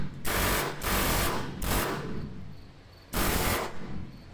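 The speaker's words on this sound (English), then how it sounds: "Harbor Freight Tools Air Chisel with the pointy end." A Harbor Freight air chisel with a pointed bit hammers out a rivet in loud, rapid pneumatic bursts, three separate runs of harsh rattling with short pauses between them.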